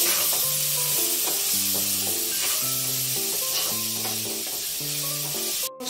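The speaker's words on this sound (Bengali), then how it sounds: "এখন সবগুলা একসাথে আমি মিক্স করে নিচ্ছি।" Vegetables fry with cumin and chili powder for a paneer roll while being mixed: a constant, bright sizzling hiss runs throughout with a simple melodic tune playing over it, and the sound cuts off abruptly at the end.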